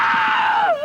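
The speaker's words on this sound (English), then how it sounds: "Scream." An actor lets out a single sustained scream on cue during a horror film shoot, loud and close, with the pitch holding steady and then sliding down as it ends.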